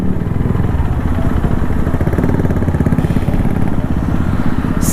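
A motorcycle fitted with a full system exhaust runs close and loud, a deep throbbing, steady engine note with a rapid pulsing beat that holds throughout.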